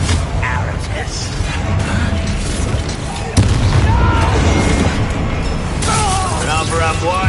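Spell blasts and impacts from Hogwarts Legacy combat, including Bombarda, Glacius and Confringo, form a dense, loud run of booms and bursts beneath a constant layer of voices and game noise.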